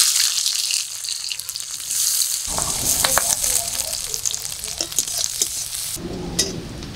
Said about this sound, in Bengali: ভোলা মাছের ঝালের জন্য এবার ফোড়ন করে নেব